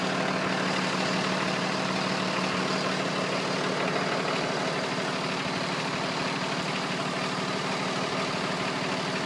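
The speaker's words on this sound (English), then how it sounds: "Truck started right up." A pickup truck engine idles after a remote start through a Carlink Excalibur alarm system, a steady low rumbling drone that holds constant and fairly close for the whole stretch with no talking.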